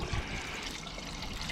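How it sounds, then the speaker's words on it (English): Water poured lightly and slowly off settled gold recovery dust in a tall bucket, a steady soft trickle running continuously at close range with no talking. "And I'm not pouring heavy enough or hard enough for the heavy stuff to make it out."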